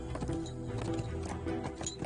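A horse galloping in a film scene, with quick rhythmic hoofbeats steady and moderately loud across a short stretch, mixed with other faint background sound.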